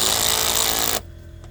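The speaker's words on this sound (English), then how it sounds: "When it's time for a little drill that could." A Walmart Hyper Tough power drill runs in a loud, close, buzzing hammer-like whir for about a second, then cuts off abruptly.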